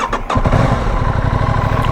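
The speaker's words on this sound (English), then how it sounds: "Listen to that cold start." A sport motorcycle fires up from cold: a brief starter crank catches into a loud, close engine that settles into a steady, throbbing idle.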